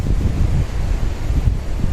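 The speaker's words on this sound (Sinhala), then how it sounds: "එනවාද හුළඟ?" Wind blows through the Sinharaja rainforest in Sri Lanka in rainy weather, a steady low roar with gusty surges that fills the whole stretch, close to the microphone.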